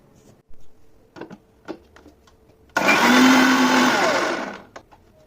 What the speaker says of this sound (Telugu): దీన్ని ఒక్కసారి మిక్సీ మీద పెట్టి బర్రు మనిపిస్తే అయిపోతుంది